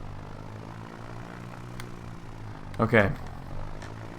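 A default bush plane in the X-Plane flight simulator drones with a steady, moderate propeller engine hum throughout, while a single short spoken word briefly rises above it.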